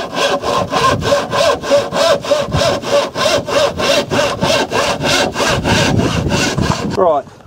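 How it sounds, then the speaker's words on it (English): A hand saw cuts wooden battens to size for narrowboat roof boxes. About eighteen steady back-and-forth strokes rasp close by with no talk, ending as the cut finishes. "So we're going to cut them down to size."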